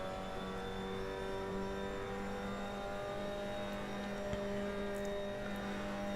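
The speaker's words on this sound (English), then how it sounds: "Oh boy, over revving it there." A race car engine screams at high revs in the Assetto Corsa racing game, a steady over-revving whine with strong harmonic tones held for several seconds, loud and unbroken, with no speech.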